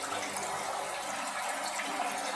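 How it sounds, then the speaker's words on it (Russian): Faint, steady trickle of water flowing out through small holes in a fish egg incubator, a continuous soft splashing with no talk. "Вытекает вода."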